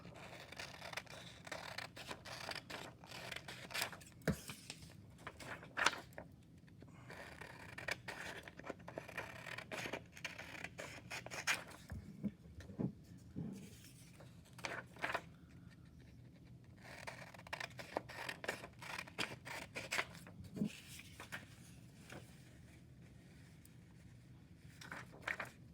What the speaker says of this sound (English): You're going to cut out that big rectangle.